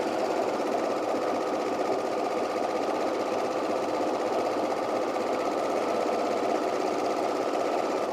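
A sewing machine stitches a fleece quarter-zip pullover in a steady, fast, continuous whir and rattle held at an even tempo throughout, loud and close.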